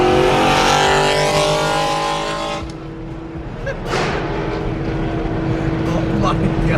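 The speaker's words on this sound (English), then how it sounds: "That car just screams." A loud sports car, a BMW M3, screams past with a high-pitched engine wail that fades away, and speech is heard over the engine noise.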